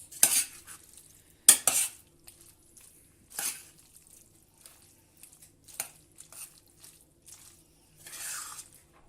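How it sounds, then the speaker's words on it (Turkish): Creamy mushroom chicken pasta stirred in a pan, close up, with a utensil scraping and scooping in separate short bursts and soft wet squishing between, no talk. "Makarnamızı güzel yine her yerine karıştırıyoruz."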